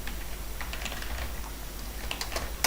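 Rapid clicking keystrokes on a computer keyboard, close and fairly quiet, a steady irregular patter of taps with no voices.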